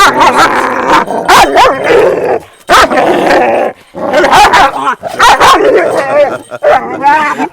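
Kangal dogs in a cage barking excitedly, with rapid overlapping barks, yips and whimpers coming in loud bursts up close, broken by a few short pauses.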